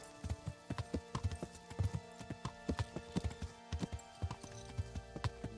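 A horse walks at an easy pace in the medieval game Kingdom Come Deliverance, its hooves clip-clopping in a steady, uneven rhythm of distinct, fairly close knocks, with no voices.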